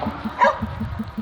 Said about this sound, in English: There's a chupacabra barking at us right now